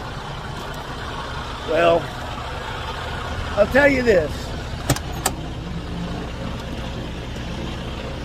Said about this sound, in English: I got the truck running because I'm dropping the trailer